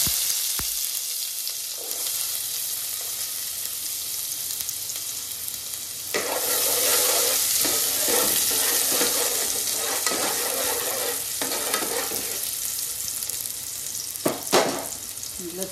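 Onion fries in hot oil for a fish chutney, a continuous hissing sizzle that swells louder once the onion hits the pan, with occasional stirring scrapes and a clack near the end, close and steady, without talking.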